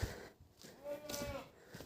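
A goat bleats in a drawn-out, wavering cry at middle distance. The call is moderately loud against quiet surroundings.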